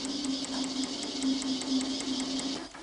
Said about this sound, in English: The counterpart to the previous tool now stretches the section to an S-profile.